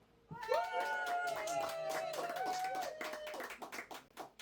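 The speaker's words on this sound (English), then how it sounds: "Round of applause if you think Marrianne won" A comedy debate audience votes by applause: scattered clapping rises under loud whoops and cheering voices, holding steady for a few seconds before thinning out.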